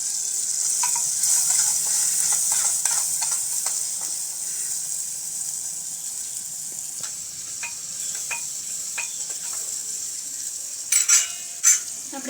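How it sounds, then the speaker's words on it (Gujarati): Spices with salt, turmeric and red chilli powder sizzle in hot tempering oil for a stuffed onion and brinjal curry: a steady, close frying hiss with light stirring clicks, and a few sharper scrapes near the end. "આપણે સરસ રીતે વઘાર થઈ ગયો છે"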